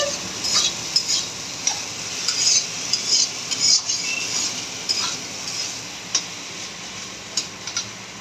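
Banana flower mixture being stir-fried in a pan, with a soft sizzle beneath repeated scraping and clinking strokes of a spatula against the metal, irregular and close.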